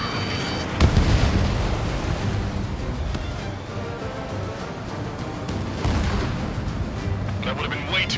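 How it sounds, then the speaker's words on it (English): Missile launch and explosions in the jet combat game Ace Combat 7, a loud burst of explosions with a rumbling, roaring wash under a dense battle mix that continues, with a second swell near the end. "Missile launched."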